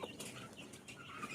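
Chickens in a poultry pen housing a brood of fifteen chicks of pure Aseel and mixed country breeds, clucking softly at a distance amid steady rustling background noise.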